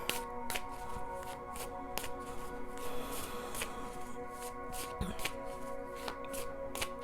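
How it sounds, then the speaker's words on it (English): Tarot cards are shuffled by hand in quick, crisp riffling bursts at a fairly regular rhythm, close and fairly quiet with a faint tonal hum behind them. "Okay, I'm going to shuffle them and see what kind of message I have."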